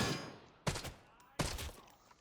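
Gunfire in the shooter game Arena Breakout Infinite: three sharp rifle bursts spaced roughly evenly apart, each cracking loudly then ringing out with a short reverberant tail, no voices.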